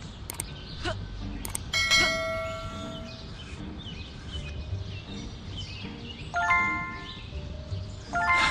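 Bells ringing in the video game Scary Teacher 3D, several bright clanging dings in bursts at the start, then again a few seconds later, over a steady ambient game background.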